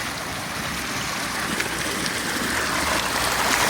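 Water rushing out of the submerged end of a pipe, a steady broadband churning flow that stays loud and constant throughout, growing slightly stronger toward the end.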